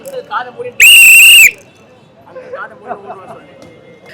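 A single piercing whistle blast cuts through a cinema crowd at a movie re-release, loud and shrill for under a second, with chatter and voices around it before and after.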